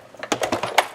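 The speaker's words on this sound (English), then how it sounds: "I'm going to crank it through my machine" A card sandwiched in a folder between acrylic plates is cranked through a manual die-cutting machine, giving a short run of close, soft clicking and grinding ticks.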